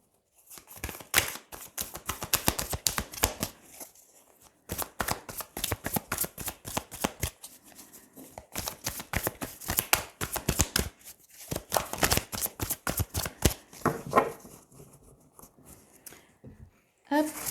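Tarot cards being shuffled by hand in bursts of rapid riffling and flicking, several separate runs of crisp papery slaps with short pauses between them, close and clear.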